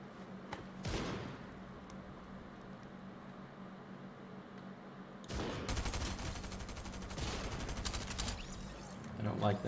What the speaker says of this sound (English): I don't like them shooting at me like that.